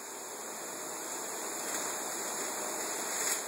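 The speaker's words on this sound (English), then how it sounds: "pour the contents into a clean 5-gallon bucket" Water carrying shrimp pours from a bag into a clean 5-gallon bucket, making a continuous, even rushing splash that holds steady for several seconds with no voices.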